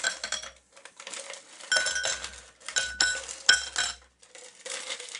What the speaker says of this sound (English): I'm going to start by putting ice in both glasses